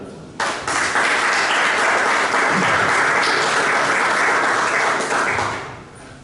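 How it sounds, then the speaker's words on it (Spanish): An audience at a conference in Viveros bursts into dense, sustained applause, loud and steady for several seconds before tapering off at the end. "Un aplauso para él, por favor."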